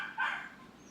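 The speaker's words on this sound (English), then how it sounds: "Still barking." A dog barks once, a short sharp call in a house, fairly close and alone with no talk over it.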